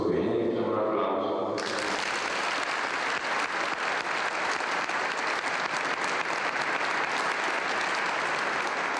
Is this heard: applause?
yes